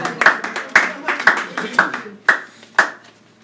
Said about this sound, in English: Give a man a round of applause.